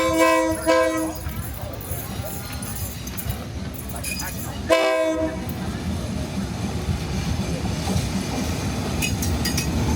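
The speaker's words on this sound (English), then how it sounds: "where the train runs straight through the market" A train rolls slowly through the Maeklong Railway Market near Bangkok, Thailand, its horn sounding in short bursts early and again midway over a steady rumble of wheels and market bustle, with voices talking nearby.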